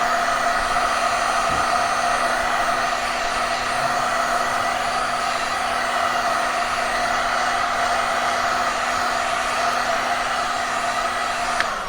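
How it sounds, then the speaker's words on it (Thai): A hot air blower melts the screen adhesive on a vivo Y3s phone, giving a steady, loud whooshing hiss with a constant whine that runs unbroken throughout, close and with no talk. "เป่าไม่ต้องร้อนจัดนะคะ เป่าแค่พอให้กาวมันละลายหน่อยเนาะ"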